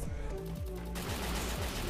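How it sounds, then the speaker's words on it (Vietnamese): Gunfire in the mobile battle game Free Fire, a run of rapid shots with a recurring low thud, heard under a dense steady wash of game noise and faint talk. "Đây có tiếng súng bên này nữa này."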